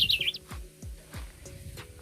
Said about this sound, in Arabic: شوفوا صوت العصفور الحسوم احلى